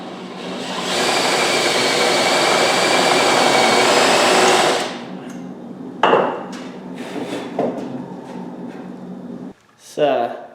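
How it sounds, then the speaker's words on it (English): A power drill with a 5/16 bit whines steadily for several seconds pre-drilling holes in a wooden bow riser, then stops, followed by scattered clicks and clattering handling noises nearby. "I'm going to mark these holes and then try to pre-drill them"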